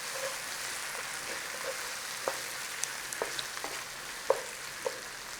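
Salted tomatoes cook in a hot pan with a steady, dense sizzle throughout. Occasional soft pops and light stirring clicks sit over the frying hiss, with no voices.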